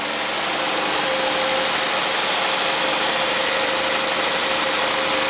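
A 1967 Triumph GT6, parked since 1999, idles high on choke while blowing some smoke, giving a steady, even engine drone with a faint hum and no talk over it.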